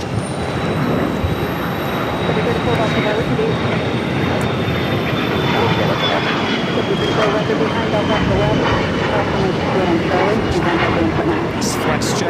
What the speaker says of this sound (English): It's FlexJet 345, an Embraer Praetor 500.